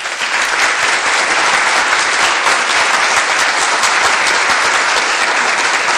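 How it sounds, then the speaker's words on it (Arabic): Loud, sustained applause from a studio audience during a children's podcast episode, dense steady clapping filling the whole stretch with no talk. "صفقوا لينا على البطلة"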